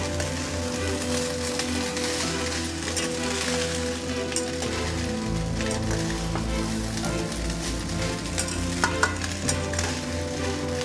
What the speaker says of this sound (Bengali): এলাচ গুঁড়ো একটু দিয়ে দিচ্ছি। এটা ভালো করে মিশিয়ে নেব।